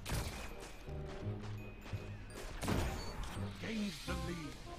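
A hand cannon fires a few sharp, echoing shots during a Destiny multiplayer match, mixed in with game effects and bursts of talk.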